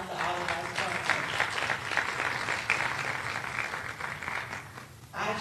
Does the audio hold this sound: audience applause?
yes